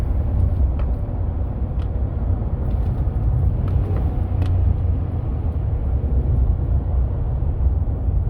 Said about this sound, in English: just slightly let this thing go off the road into the really rough area